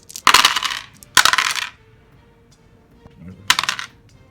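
Several dice clatter and rattle across a hard tabletop in three separate short bursts during a Deadzone miniatures battle, close and crisp with quiet gaps between rolls.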